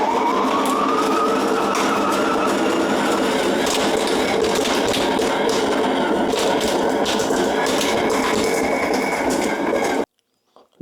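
A stand mixer churns pizza dough after a touch of olive oil is added, giving a steady, loud motor whir with a rhythmic slapping knead that runs without pause for about ten seconds, then cuts off abruptly.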